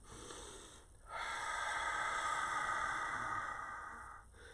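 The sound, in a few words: breathing while stepping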